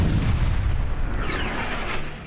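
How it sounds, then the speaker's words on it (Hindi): Artillery shells fired near the Lebanon border rumble as a loud, continuous low boom that fades slowly toward the end, with no voices. "सैनिकों को इससे भी तसल्ली नहीं हुई तो 10 राउंड और गोले दाग दिए।"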